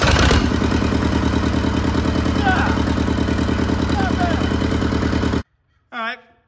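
A Cummins 4BT diesel engine cranks, catches and runs with a loud, close, rhythmic clatter, then cuts off abruptly, followed by a brief spoken remark.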